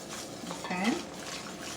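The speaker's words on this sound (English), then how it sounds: "hold my pan with one hand and mix with the other slowly" A custard base for crème brûlée is slowly stirred in a pan, a soft continuous scraping and swishing of utensil against metal, close and quiet, without talk.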